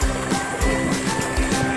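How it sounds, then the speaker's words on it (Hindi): Water released into farm fields rushes and gurgles steadily, loud and close, with rhythmic sloshing pulses throughout the short stretch and no voices. "भाई ये खेतों के लिए पानी छोड़ा"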